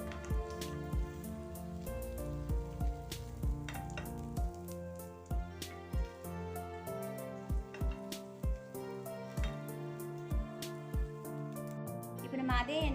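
Paneer cubes frying in hot oil, a steady soft sizzle running underneath regular tapping and clinking of a utensil against the pan while someone talks throughout.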